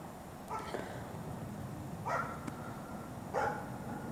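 Neighbor dogs bark outdoors on a snowy street, three separate short bursts spaced a second or so apart, fairly distant and faint against quiet background noise.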